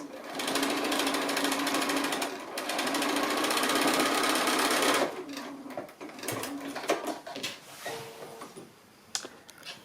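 Close, steady whirring drone of a sewing machine stitching a fabric casing seam on a small quilted drawstring bag, running continuously for about five seconds, then stopping into scattered handling clicks and rustles.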